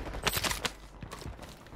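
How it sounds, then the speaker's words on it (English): Gunfire in Call of Duty Warzone (Modern Warfare III, Vondel map) comes as a quick run of sharp shots, then a few more bursts, fairly faint and distant, with no talk over them. "I hear gunshots."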